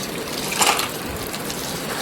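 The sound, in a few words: water running while rinsing clams in a bowl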